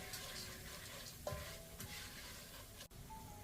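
Washed rice is stirred in melted butter in a pan over medium heat, giving a faint soft sizzle with light scraping strokes and one sharp utensil tap, with no voices.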